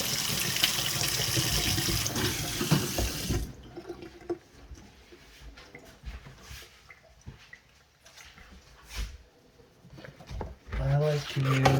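A kitchen tap runs loud and full over dishes being rinsed for a few seconds, then shuts off, leaving quieter drips, rubbing and light handling sounds in the sink.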